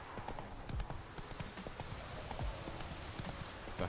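Hooves of the horse Roach clip-clop in The Witcher video game, a quiet, even gait of soft thuds over a dense background wash of game ambience.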